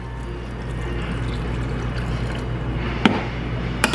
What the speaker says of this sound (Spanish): vamos a ponerle agua.